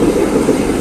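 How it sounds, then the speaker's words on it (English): An old Brussels tram, one of those still able to climb the city's hills, rumbles along on its rails with a steady, loud low-frequency roll and no talk over it. "And there you have one of our old trams."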